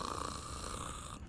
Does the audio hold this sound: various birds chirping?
no